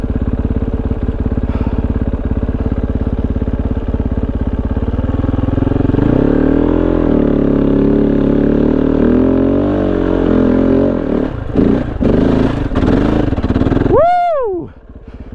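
Kove 450 dirt bike fitted with a Dominator exhaust, off-road airbox and 230.1 tune, riding uphill: loud, close engine drone that rises and surges with throttle, some clattering near the end, then a quick rev that fades out.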